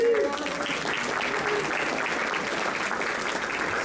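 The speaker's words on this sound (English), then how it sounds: "let you give them a round of applause for all that they represent" Audience applause honoring women inducted into a golf Hall of Fame, steady moderate clapping from a room full of people, a continuous even wash with no talk over it.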